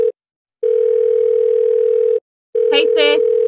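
A telephone tone sounds while a call is placed, a steady loud tone broken into two long stretches by a pause, with a voice briefly speaking over the second stretch.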